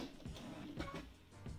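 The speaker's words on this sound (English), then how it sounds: "So sewing along like this" A sewing machine fitted with a walking foot and a size 80 quilting needle stitches binding onto a quilt, giving a faint, steady mechanical whir with soft rhythmic pulses and no talking.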